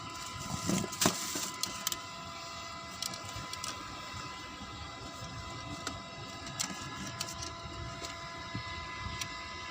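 A Jump Starter T700's small built-in air compressor runs with a faint, steady rattling buzz, punctuated by a few light clicks and taps nearby.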